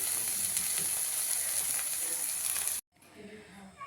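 Butter sizzles loudly in a pan with spinach and fenugreek leaves, a bright continuous hiss that stops abruptly near the end, leaving a quieter crackle behind.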